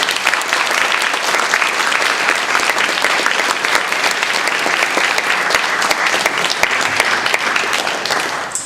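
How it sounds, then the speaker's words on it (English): Audience at a Merion Civic Association school board candidate forum applauding all the candidates, a loud dense steady clapping that runs unbroken and close for the whole stretch. "I'd like to ask the audience to give all the candidates a round of applause."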